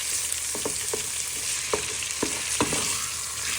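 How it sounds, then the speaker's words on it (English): Pork mince sizzles steadily in hot oil in a pan, with a spatula chopping and stirring in several distinct close knocks over the constant frying hiss. "So you just want to brown this for a few minutes and give it a good chop and stir."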